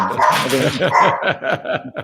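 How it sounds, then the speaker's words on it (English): A dog barks in a quick run of about eight loud, close yaps and woofs over two seconds, sharp and insistent, with a whimpery edge on some barks. "Whose dog is that?"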